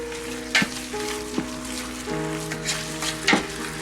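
Rice sizzles and fries steadily in a hot pan, with a few sharper scraping knocks from stirring spaced through the continuous hiss, close up and without talk.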